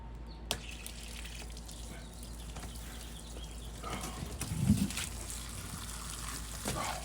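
Water runs out in a steady low hiss with faint trickling and splashing, growing briefly stronger midway, quiet and close, with no talk.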